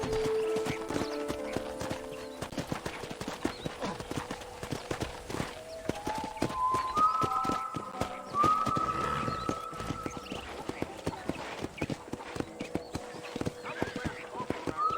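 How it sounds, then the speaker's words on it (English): Steady horse hooves clip-clopping at a walking pace in Red Dead Redemption, close and fairly loud, with a horse whinnying and a short musical tone sequence over it. "let's see if you can still ride a horse"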